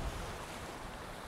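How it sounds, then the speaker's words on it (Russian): A strong, cold north wind in Dahab buffets a lavalier microphone, making a dense, continuous roar that fills the short stretch with no talk. "Ветер северный, холодный."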